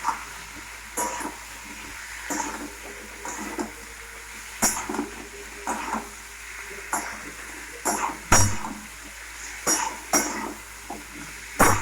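Long-cut potato slices with turmeric get stirred in a frying pan, a spatula scraping and clinking against the metal in irregular strokes over a soft sizzle.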